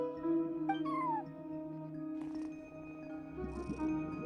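A cat meows at a front desk in the Genshin Impact video game, a couple of short, rising meows over a soft sustained tonal background of game music, fairly quiet and with no talking.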